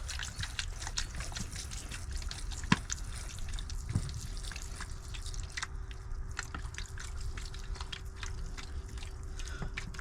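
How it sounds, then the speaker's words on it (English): Seedling trays in a greenhouse are watered, a steady close patter of dripping and trickling with scattered louder drops over a soft background hiss, no talk. "before I do, give them another bit of a water."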